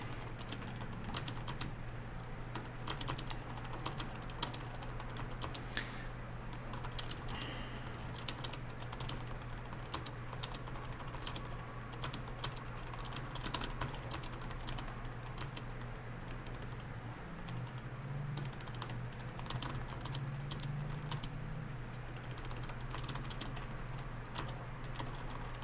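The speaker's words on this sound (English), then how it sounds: "So that hopefully gives you some idea of what typing is like on it." Steady rapid typing on a keyboard connected to an e-ink device, a continuous stream of close, crisp key clicks running throughout over a low hum, with no voices.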